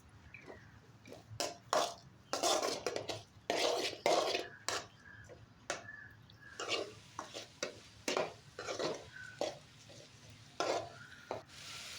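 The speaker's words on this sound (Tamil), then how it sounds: "நல்லா கலந்து விட்டுக்கணுங்க" A spoon scrapes and clatters against a pan in repeated bursts as chopped onions and tomato are stirred, with a soft sizzle underneath.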